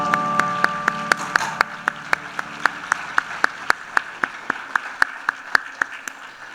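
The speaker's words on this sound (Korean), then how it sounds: "자, 큰 박수로 축하하겠습니다." A church congregation claps in unison, sharp rhythmic beats at a steady tempo, with a sustained organ or keyboard tone in the background.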